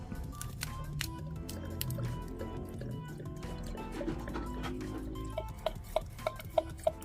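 Liquid poured into a container holding rusty iron pieces gives a soft gurgling, sloshing fill, then gives way to a few distinct, sharp drips near the end.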